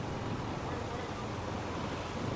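Surf at Kuta Beach in Bali rolls in as a steady, broad wash, with wind buffeting the microphone throughout and no clear individual wave breaks standing out.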